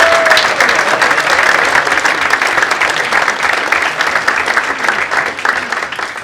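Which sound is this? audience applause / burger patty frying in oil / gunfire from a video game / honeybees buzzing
audience applause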